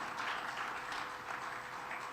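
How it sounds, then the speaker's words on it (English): Applause from the audience at a university funding conference in Kenya, a steady wash of many hands clapping, moderately distant, with no speech over it. "Please clap for yourself again."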